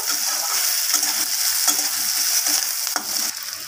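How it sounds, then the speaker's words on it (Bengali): Chopped onions sizzle steadily in hot oil in a pan, with occasional scraping and stirring of a spatula. The frying is loud, close and continuous, and no one speaks. "পেঁয়াজগুলোকে তেলের সাথে একটু নাড়িয়ে চাড়িয়ে ভেজে নেব কালার চেঞ্জ হওয়া পর্যন্ত।"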